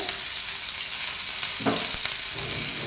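Grated coconut with curry leaves and cumin being roasted in a pan and stirred constantly, a steady close sizzle broken by a few scraping strokes of the spoon, without talk.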